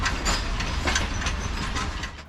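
A train arriving at Lahore Junction in Pakistan, with continuous loud rumbling and rhythmic clattering of railcars over the track, close by.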